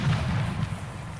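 A cannon shell striking a tank in Arma 3 Iron Front 1944, a heavy low boom with a rumbling tail that fills the brief moment, loud and close.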